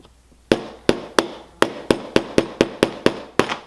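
A punch tapped with a hammer to drive a trigger pin into a Glock frame: about a dozen sharp metallic taps in a quickening rhythm, crisp and close, after a short quiet start.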